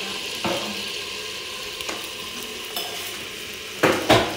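A spoon stirs thick spinach pakora batter made with gram flour in a bowl, giving soft close scraping with a few light clinks against the bowl, then two sharper knocks at the end, and no talking.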